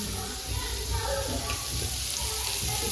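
Fish frying in a pan in a home kitchen, a steady broadband sizzle running throughout with low clatter and faint background voices underneath.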